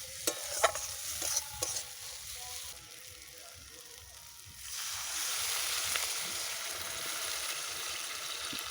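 Spices fried with curry leaves for a pangas fish curry crackle and are stirred with a few sharp clinks, then water hits the hot pan and the sizzle swells into a loud, steady hiss that continues to the end.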